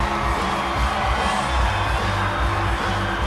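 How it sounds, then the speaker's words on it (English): Glastonbury festival crowd at a concert roaring and cheering, a dense, steady wash of many voices and whoops held loud and continuous throughout. "These crowds are wild."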